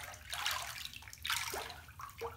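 Water runs steadily into a bathtub where a bath bomb is fizzing, making a soft continuous rushing and splashing at close range, with no talking.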